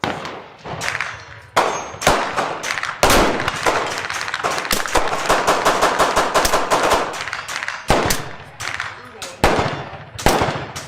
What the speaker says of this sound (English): This is the loudest range I've ever been to in my entire life, and it doesn't stop.